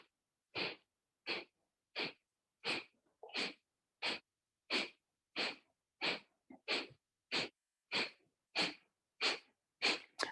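Breath of fire yoga breathing: sharp, forceful exhales through the nose at an even pace, about sixteen short bursts with silence between them, close and clear.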